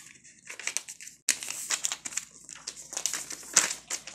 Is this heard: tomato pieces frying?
no